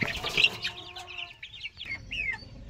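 A large, heavy farm hen clucks up close in a short burst of sharp, rising calls, followed by a few softer clucks with brief pauses, no talk over it.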